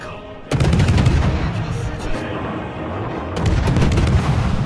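Heavy ship guns fire volleys at defenders in World of Warships, two loud booming salvos with rolling rumble and crackle between them.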